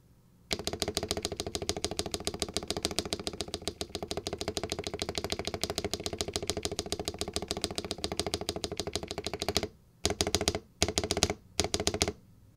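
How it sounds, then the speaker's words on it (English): Fast, continuous typing on a NuPhy Halo75 keyboard with Nightbreeze switches, with dense, even keystroke clicks for about nine seconds and then a few short separate bursts, close and clear with no talking. "here's what it sounds like if you choose the Nightbreeze switch"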